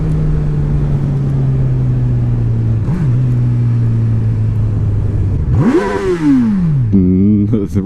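Honda CB1000R motorcycle engine held at a steady idle-like hum, then sharply revved once with a rising and falling whine before settling back, close and loud, with brief blips at the end.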